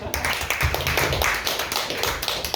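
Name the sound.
audience applause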